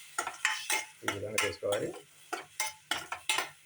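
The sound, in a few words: stirring and frying onion and tomato in a pan with a spoon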